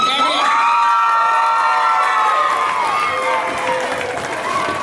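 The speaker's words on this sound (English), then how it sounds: "Clap it up, clap it up." A crowd at an awards night celebration cheers, whoops and shouts for an undefeated 11-0 junior midget football team, with children's voices high in the mix and applause underneath; the noise is loud and sustained throughout, gradually easing toward the end.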